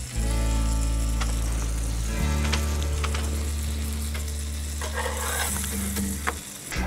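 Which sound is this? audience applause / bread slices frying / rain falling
bread slices frying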